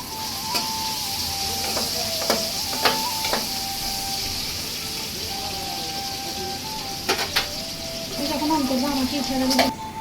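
Onions frying over low heat in the oil left in a pan after an earlier fry: a steady, soft sizzle runs throughout, with light stirring clicks and scrapes and a busier patch of crackle near the end.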